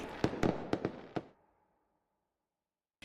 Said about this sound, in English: That night, fireworks lit the sky